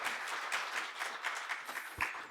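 Audience applause welcoming a periodontics lecturer at a dental conference, a steady wash of many hands clapping at moderate level, with no voices over it.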